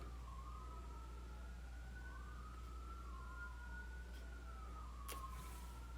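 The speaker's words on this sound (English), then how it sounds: "Thanks, cops, for turning on those sirens now." Police sirens wail outside, a faint, distant rising-and-falling tone that keeps sweeping in long slow cycles over a steady low rumble, with no voices.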